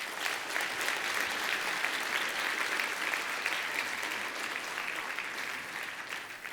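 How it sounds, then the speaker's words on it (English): Conference audience applauding after a technical talk on web application security, a steady dense wash of clapping from a large room that holds evenly and then tapers slightly. "Let's give him a quick round of applause."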